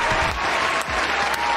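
Close, steady hand clapping fills the moment with a continuous rush of claps and a faint voice beneath.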